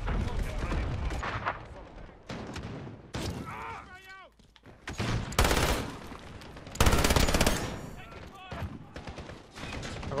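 Gunfire in Call of Duty Modern Warfare on the Hardpoint mode's Rust map, loud bursts of automatic shots and single cracks separated by brief gaps, with game sound effects and a voice talking at times.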